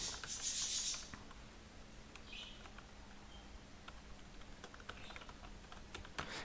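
A computer keyboard is typed on in short, soft bursts of clicks at close range, fairly quiet, with a brief louder noise at the start and no talking.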